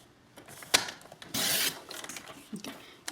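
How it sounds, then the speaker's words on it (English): Paper being trimmed for a gift card folio, with scattered soft cutting and rubbing sounds and one longer sliding stroke in the middle, close and fairly quiet. "I'm going to trim this."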